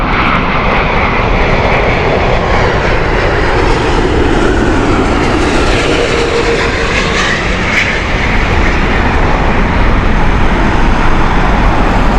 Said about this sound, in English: Beautiful A350 of British Airways.